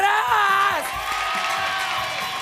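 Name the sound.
audience applause and cheering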